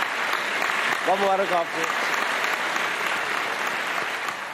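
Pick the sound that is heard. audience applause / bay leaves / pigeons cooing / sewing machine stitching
audience applause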